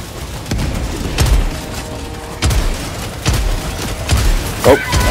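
Several deep booms and thuds from meteorites striking the ground in Helldivers 2, landing at irregular intervals over a rumbling battlefield background.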